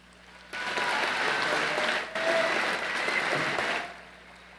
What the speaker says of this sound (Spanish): fuerte aplauso al profesorado